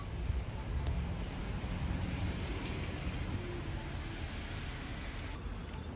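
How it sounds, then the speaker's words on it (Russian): Steady broadband rain falling outdoors near a porch, a constant dense hiss with low rumble, moderately loud and unbroken throughout. "Можно потрогать дождик."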